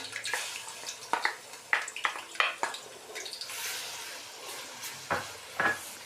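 Garlic ginger paste fries in hot oil in a pan for fried cauliflower, a continuous sizzle broken by repeated scraping stirs and small splatters close by.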